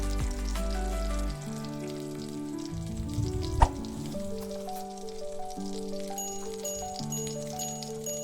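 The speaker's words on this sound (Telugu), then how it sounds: "ఇప్పుడు కడాయిలో మనం మ్యారినేట్ చేసుకొని ఉంచుకున్న చికెన్ని కొంచెం కొంచెంగా వేసి మంచి ఎర్రగా వేగేలా కలుపుకోండి" Marinated chicken pieces frying in oil in a kadai, a continuous close sizzle with stirring scrapes and a sharp clink partway through, no talking.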